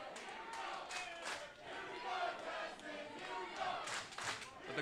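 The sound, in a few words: crowd cheering in a wrestling video game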